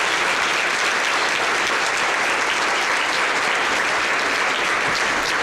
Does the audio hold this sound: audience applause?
yes